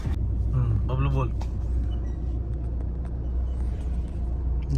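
Steady low engine rumble from inside a moving car carrying family members to a farmhouse outing, with people talking over the drone throughout.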